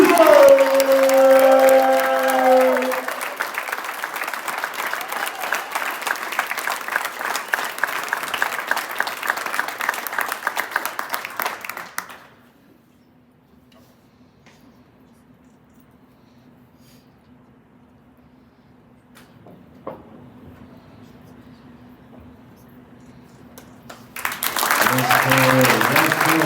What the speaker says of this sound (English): Everybody please give a huge round of applause for Cole Ball Hero!